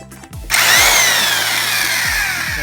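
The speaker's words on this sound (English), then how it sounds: "You can use an impact wrench, or you can just use a regular wrench, but that's going to take a little longer." An impact wrench on a 2005 Scion xB strut top bolt is heard close and loud: a short hammering burst, then a sustained whirring spin with faint rapid knocks underneath.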